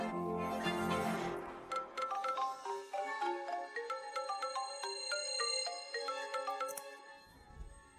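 Mobile phone ringtone playing a bright melodic chime sequence of clear repeating tones while a call is placed, fairly quiet and alone, fading near the end.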